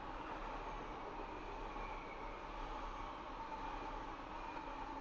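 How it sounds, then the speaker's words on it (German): A train rumbles past in the Train Simulator game, near the CFR Class 47 locomotive, giving a steady low rolling drone with a constant hum throughout. "Hört sich so an, als würde ein Zug vorbeifahren."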